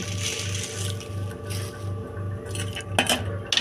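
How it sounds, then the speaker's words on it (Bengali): White sesame seeds dry-roasting in a pan give off a soft rustling and scraping as they are stirred, with occasional clinks of a utensil against the pan and a steady low hum underneath. "প্রথমেই নিলাম তিল সাদা তিল সেঁকে নিচ্ছি"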